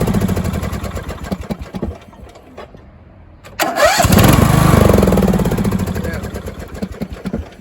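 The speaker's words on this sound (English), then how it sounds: "now we're going to try to start it up and see if the starter hangs or does anything at all" A Briggs & Stratton 17.5 HP engine cranks with a choppy starter rhythm, pauses briefly, then catches and roars up close into a loud, steady running drone, with talk over parts.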